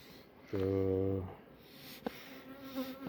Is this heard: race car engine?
no